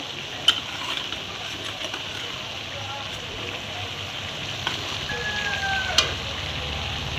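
A fish head sizzles in a hot pan of oil for a Bengali vegetable chorchori, a steady close frying hiss with a few small pops and clicks throughout, no talking.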